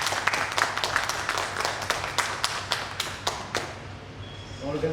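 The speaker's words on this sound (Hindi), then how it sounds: "ताली बजा दीजिए सर" An audience at a company event claps in congratulation for a record month, a steady run of close, sharp claps that thins out and stops after about four seconds, followed by a voice speaking.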